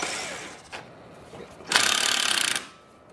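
A 10 millimeter socket ratchet loosens a fender bolt on a Honda Ruckus scooter, with a quick tick, then a close, rapid burst of ratcheting clicks lasting under a second, no talking.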